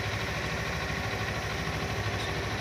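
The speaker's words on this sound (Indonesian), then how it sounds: "Ini kondisi stasioner bro ya, kondisi stasioner motor oke." A Kawasaki 250 cc motorcycle engine idles steadily up close, a constant throbbing putter with a fast, even pulse that never changes pace.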